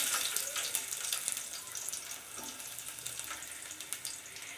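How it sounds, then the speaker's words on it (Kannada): Garlic frying in a hot pan after cumin for a buttermilk sambar, a dense continuous sizzle with crackling pops that stays close and fairly loud, with no voices over it. "ಇವಾಗ ನೋಡಿ ಬೆಳ್ಳುಳ್ಳಿ ಹಾಕ್ತಾಯಿದ್ದೀನಿ"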